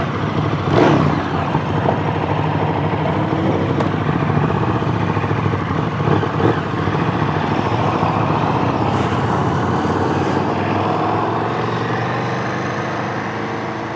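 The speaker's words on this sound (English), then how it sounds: "riding around on the KTM 1290 Super Duke R" A 2017 KTM 1290 Super Duke R motorcycle roars around the South Circuit at Sydney Motorsport Park, its engine droning steadily with brief revving surges, loud and close throughout.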